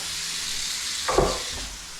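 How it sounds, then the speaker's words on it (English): Beef browning in a hot pan, with a steady close sizzle and hiss that briefly swells louder as the meat is stirred or moved, then settles back to an even frying crackle. "beef's browning nicely"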